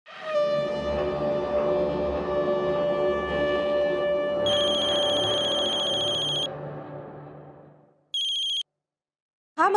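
A phone rings with a loud, steady electronic ringtone that fades out, then a few short high beeps chirp near the end.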